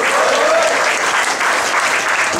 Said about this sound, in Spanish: denle muchas palmas al Señor